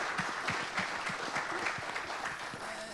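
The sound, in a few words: audience round of applause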